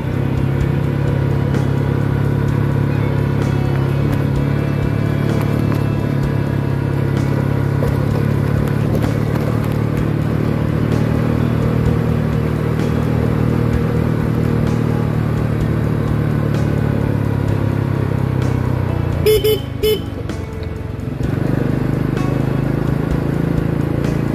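An old Honda Supra motorcycle climbs a steep hill at Gunung Gandul in second gear. Its engine drones loud and steady under strain for the whole stretch, with a brief rattle near the end.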